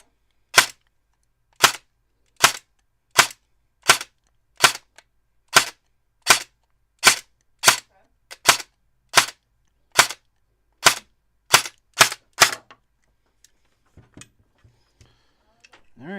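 An airsoft Thompson gearbox fitted with a Pinion ATU++ cycles in sharp, loud single shots, about fourteen evenly spaced cracks that speed up slightly toward the end, followed by faint handling noise.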